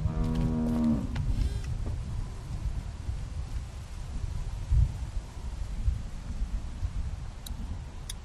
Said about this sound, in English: How do you like that cow